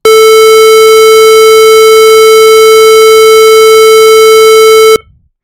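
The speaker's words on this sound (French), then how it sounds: "là je vous fais écouter un son qui correspond au La 440." A pure electronic 440 Hz A tone holds steady and loud for about five seconds, then cuts off abruptly into silence.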